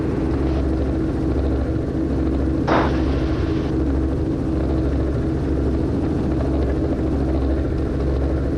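A helicopter inbound to a ramp, heard as a loud, steady rotor and engine drone with a constant low throb throughout, plus a short burst of hiss partway through.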